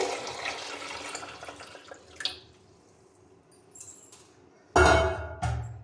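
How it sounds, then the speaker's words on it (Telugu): Tamarind pachi pulusu liquid is poured into a pan in a splashing rush, starting with a long gurgling pour, then a pause with small drips and clinks, and finally a loud, close splash near the end. "మనం ముందుగా కలిపి పెట్టుకున్నటువంటి పచ్చిపులుసుని అయితే ఇందులో వేసుకోవాలి"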